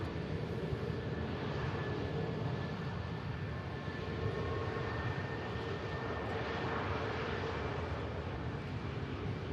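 A jet airliner rolls off the runway at Manchester Airport, its engines giving a steady, loud, continuous roar with a faint high whine running through it, heard close and unbroken throughout.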